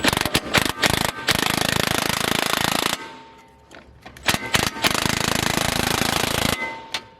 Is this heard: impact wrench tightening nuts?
yes